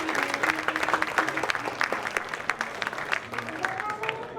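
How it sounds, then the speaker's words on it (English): An audience applauds a man called up on stage at a fall preservice gathering, sustained clapping and crowd noise running under a speaking voice that continues over the top. "Let's give a round of applause for this man."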